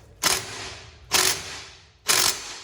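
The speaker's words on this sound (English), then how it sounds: "3/4 inch bolt right here. And you're going to loosen it off." A ratchet wrench loosens a 3/4 inch drain bolt on a Legend race car's rear end, three sharp, close clicking bursts spaced about a second apart, with no talk.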